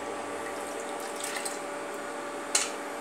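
Water from a mug pours into a pan while dalma, a lentil and vegetable stew, cooks; a soft, steady splashing hiss with a brief sharper splash near the end, quiet and close.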